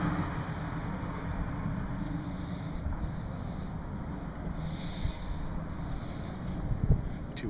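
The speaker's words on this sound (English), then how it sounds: "Too windy over here." Steady wind buffets the microphone with a low, rumbling roar throughout, unbroken by any voices.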